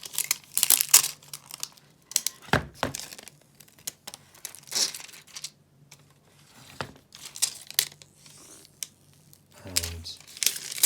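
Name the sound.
plastic film being peeled off an Apple TV box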